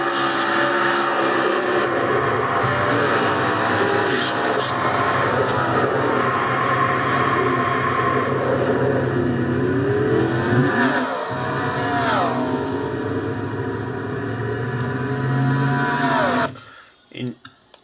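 Onboard a Castrol GTX Cup Series stock car on track, Charles Jackson's engine drones loudly and unevenly as its pitch sags and stumbles, then cuts out abruptly near the end, with commentator talk running over it.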